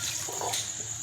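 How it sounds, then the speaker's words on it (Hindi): Water pouring from a vessel into a cooking pot holding half a kilo of raw meat for a cabbage and meat curry, a short steady splashing stream heard close up and alone. "इसमें अब पानी डालते हैं।"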